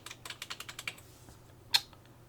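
Quick, evenly spaced keystrokes tap on a computer keyboard while someone works through an Amiga music tracker program, followed by a pause and one sharper, louder key press.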